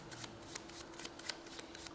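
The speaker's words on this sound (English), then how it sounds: "European way of shuffling cards" Playing cards are shuffled by hand during a live magic act, a quick series of soft riffling flutters, close and quiet, with no voices.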